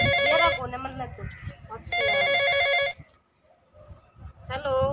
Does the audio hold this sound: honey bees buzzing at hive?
no